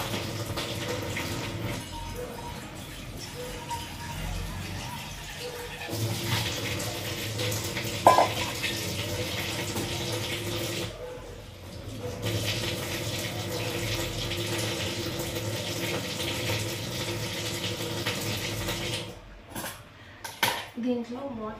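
Water is tipped out of a steel pan on a low stove flame while noodles are being cooked, a steady running pour with faint clinks of the pan in a kitchen, talk heard at times.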